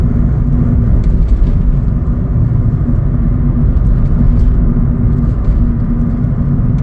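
A Chevrolet City Express LT cargo van driving, its engine and road noise forming a steady, close, even rumble from start to end with no talk.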